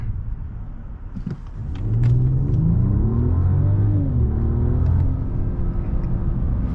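A 2021 Mercedes-Benz S500 in sport mode accelerates from inside the cabin, its engine rumbling lower at first, then surging louder as revs climb through smooth gear changes, holding a strong steady drone.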